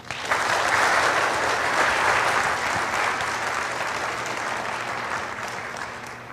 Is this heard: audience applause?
yes